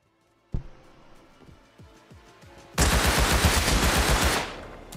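Bursts of AK rifle fire from the Rust video game: scattered single shots and short bursts, then a sustained, loud stretch of rapid automatic fire lasting nearly two seconds.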